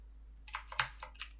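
Typing on a computer keyboard while naming parts of a phone stand rig in Blender, a quick burst of close, light key clicks after a short silence, with no talking.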